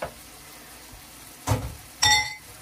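Dry pasta drops into a pot of boiling water on a stove, giving two brief splashing, clattering bursts over a faint steady bubbling background.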